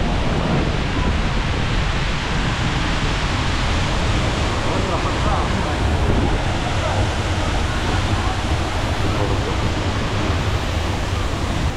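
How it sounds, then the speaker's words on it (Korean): Strong wind roars by the sea at Vik, Iceland, a loud, continuous broadband rush buffeting the microphone, mixed with distant surf, with no break for the whole stretch. "태풍 태풍이야"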